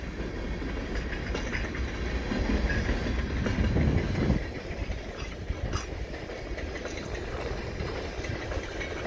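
A Canadian Pacific mixed freight train with three engines rumbles steadily past on a winter night, its heavy low roar swelling and then easing, with faint rhythmic rattling of wagons throughout.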